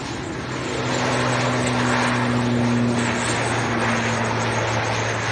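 An Aer Lingus airliner departs Leeds Bradford Airport for Belfast, its engines a loud, steady roar with a droning low hum that swells and holds for several seconds, with no one talking.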